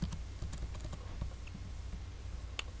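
Fast, close clicking of keys on a computer keyboard while code is entered into a Visual Basic notepad program, irregular taps running steadily with no voices.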